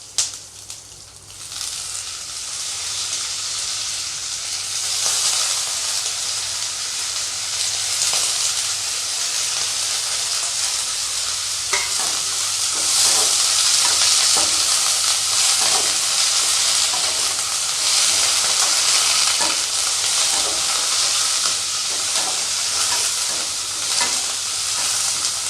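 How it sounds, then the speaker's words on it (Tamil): Curry leaves dropped into hot oil sizzle and crackle loudly and steadily, close up, with continuous frying hiss and occasional stirring scrapes. "இப்போ நம்ம அலசி வச்சுருக்கிற கருவேப்பிலையை சேர்த்துக்குவோம்."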